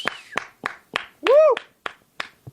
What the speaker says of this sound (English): Notice there's only one person clapping.